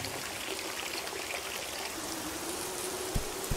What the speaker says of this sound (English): if we click too much, it makes like water go on the screen